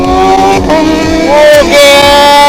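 A loud, close Kawasaki ZX-25R sport motorcycle engine revs, its pitch climbing and dropping in quick throttle blips, with a voice briefly audible over it.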